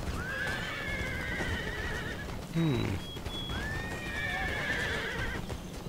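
Horses whinny repeatedly in a musket-era battle in the game Empire Total War, long high neighs near the start and end, with hoof clatter and battle noise throughout and a brief murmured voice in the middle.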